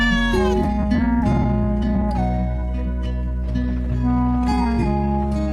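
A cartoon cat meows in an animated children's story, drawn-out tonal mews over a bed of steady background music, loud and upfront.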